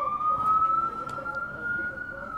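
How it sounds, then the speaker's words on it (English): A steady siren wails at a distance, its tone holding nearly level over low background rumble. "Here comes the sirens again."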